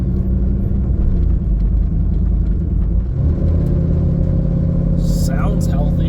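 A squarebody Chevrolet Suburban's engine runs steadily while the truck drives, a constant low rumble with a slight shift partway through, talk faintly underneath.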